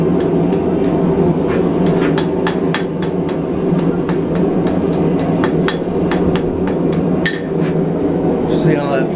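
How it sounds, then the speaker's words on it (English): A forged mason jar handle is hammered on an anvil, with a steady series of sharp, ringing metallic blows, close and loud, over a continuous background hum. "So we'll just spread them out a little bit and work them on the anvil now."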